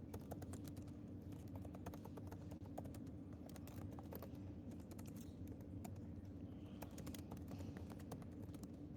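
Rapid typing on a computer keyboard, a steady stream of quick clicks and taps over a continuous low background hum, moderately faint.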